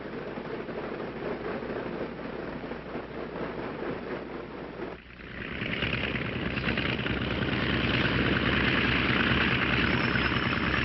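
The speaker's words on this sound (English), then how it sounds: "Ground control having given us permission, we taxi over to the warm-up block." A 1950s light aircraft engine running at low power while taxiing, a steady buzzing drone that shifts after a brief dip midway and then settles at a slightly higher, stronger pitch, close and continuous with no voices.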